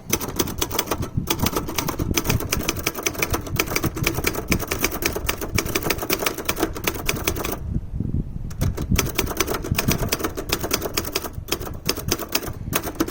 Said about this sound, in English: let's give a evaluation of the typing touch of this machine